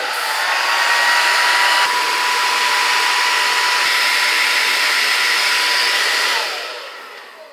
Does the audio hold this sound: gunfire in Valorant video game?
no